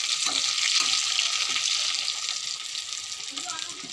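Potatoes fry in hot oil in a pan, a steady close hiss and sizzle that fades slightly toward the end, with faint stirring scrapes underneath.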